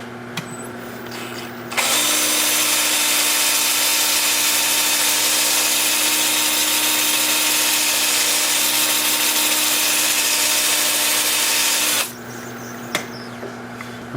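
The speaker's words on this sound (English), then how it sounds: "And we're ready for sanding" Sandpaper at 80 grit presses against a small sycamore bowl spinning on a wood lathe, a loud steady hiss over the motor's drone lasting about ten seconds, with the lathe humming alone before and after.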